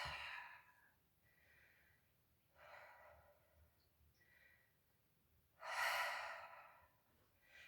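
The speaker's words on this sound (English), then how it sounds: "Big, deep breaths." Slow, deep yoga breaths during a full-body flow stretch: several soft airy inhales and exhales in an uneven rhythm, close and quiet, ending in one louder, longer breath.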